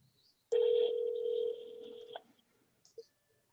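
Steady telephone dial tone on a courtroom call, lasting about a second and a half and then holding at a lower level before cutting off, followed by a couple of short faint clicks; no one speaks over it.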